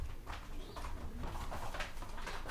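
Sport pigeons cooing in a loft, soft repeated throaty coos overlapping one another against a steady low background rumble, no voices present.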